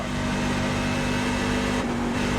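A NASCAR stock car engine in the iRacing sim at Nashville Superspeedway, droning loud and close at steady high revs with a tonal whine, then dipping briefly near the end.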